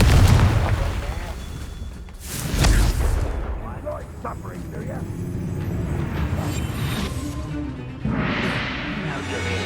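Confringo fire spells blast in the Hogwarts Legacy video game, with two heavy booming bursts over ongoing game noise and a voice shouting spell incantations throughout.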